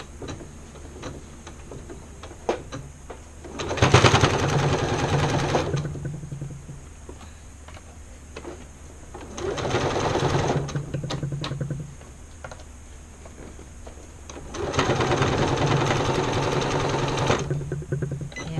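A sewing machine stitches a soup bowl cozy in three separate bursts, each a few seconds long, with a rapid mechanical whirr and short quiet pauses between runs.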